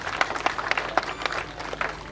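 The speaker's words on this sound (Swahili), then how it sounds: "Pigieni makofi tafadhali." Audience applause at a Kenyan comedy show, a short burst of scattered, moderately distant clapping from the crowd, lasting about two seconds.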